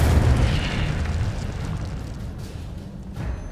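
An Incendio fire spell bursts in Hogwarts Legacy as a deep booming rumble that starts loud and slowly fades, with no talking.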